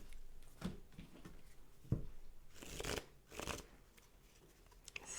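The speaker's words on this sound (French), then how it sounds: "on va aller tirer quelques cartes du coup avec le petit oracle des mots" Oracle cards are shuffled in several short bursts of papery riffling and flicking, close and fairly soft, separated by brief pauses of quiet handling.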